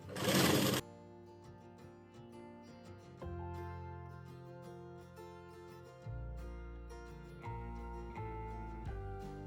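A sewing machine stitches a princess-cut blouse with short whirring runs broken by pauses, loud and close, with a harsh burst at the start and no talking.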